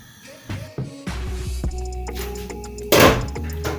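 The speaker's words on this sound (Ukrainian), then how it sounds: "накриваю кришкою" A lid clatters onto a frying pan with a few sharp metallic knocks, then a louder burst of sizzling frying rises underneath.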